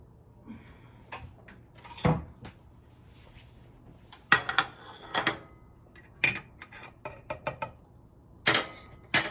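A metal whisk works through hot roasted red pepper soup, giving scattered clinks and taps against the pot in irregular bursts, fairly close and with no talking.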